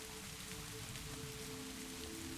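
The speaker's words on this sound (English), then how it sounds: "the rain upon the roof" Rain falling on a cabin roof, a steady, dense hiss of drops that holds unchanged throughout, fairly faint and even with no voices.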